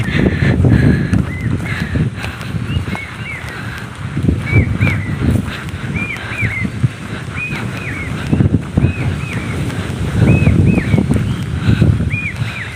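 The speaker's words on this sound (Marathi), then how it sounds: "इकडे खूप हवा असते कधी पण या हवा असणारच असणार" Strong wind buffets the microphone on the Konkan coast in western India, a loud, continuous low rumble with gusty surges, while faint high birdcalls chirp repeatedly in the background.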